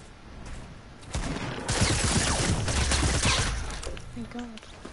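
Rifle gunfire in Fortnite solo play, bursts of rapid shots building from about the one-second mark and continuing loud through most of the clip, with game sound effects around them.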